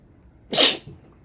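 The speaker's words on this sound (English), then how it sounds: "I have to sneeze" A single sharp sneeze, loud and close, bursting out of near silence and ending with a short breathy tail.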